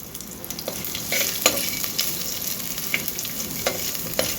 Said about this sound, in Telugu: ఈ మూడు వేసుకుందాము కొంచెం వేగాలి